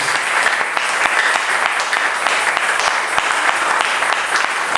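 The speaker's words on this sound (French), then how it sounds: "Applaudissez pour le Seigneur." A church congregation applauding at a sermon service, dense continuous clapping from many hands, loud and close throughout.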